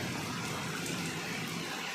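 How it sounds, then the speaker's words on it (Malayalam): Heavy rain pours continuously outside a house, a dense, even hiss with no pauses and no voices. "മഴ എപ്പോഴും നിർത്താണ്ട് അങ്ങോട്ട് പെയ്തുകൊണ്ടിരിക്കുകയാണ്"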